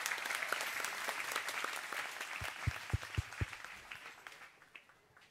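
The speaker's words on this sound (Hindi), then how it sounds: "जोरदार तालियों से स्वागत।" Loud crowd applause welcoming a revered guest at a Holi festival gathering at Shantikunj, dense clapping with a few sharp nearby claps standing out before fading toward the end.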